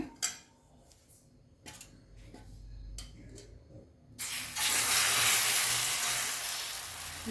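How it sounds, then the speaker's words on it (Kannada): Rava dosa batter is poured onto a hot tawa. A few clinks of utensils on cookware give way to a sudden, loud, sustained sizzle that gradually eases. "ಸೊ ಬನ್ನಿ, ಇವಾಗ ದೋಸೆ ಬಿಡೋಣ. ನೋಡಿ, ಇವಾಗ ತವೆ ಕಾದಿದೆ."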